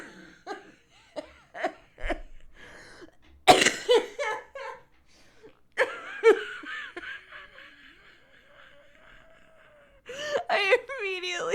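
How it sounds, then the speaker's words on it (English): A man coughs and wheezes up close, with harsh bursts of coughing and laugh-like gasps, then a thin, drawn-out whistling wheeze, before another loud cluster of coughs at the end; no talking. "now you can hear my old man wheeze"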